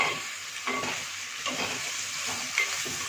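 Tomato frying in a pan for semiya (vermicelli) upma, a steady close sizzle with light spoon scrapes as it is stirred at intervals, no talking.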